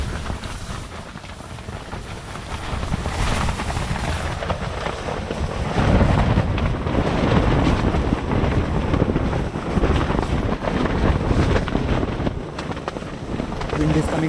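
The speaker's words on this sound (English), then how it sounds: "wind is coming from all sides," Strong wind buffets the microphone on an exposed Himalayan mountainside at Black Peak (Kalanag), a steady, loud roar that swells around the middle and holds throughout, with voices faintly present.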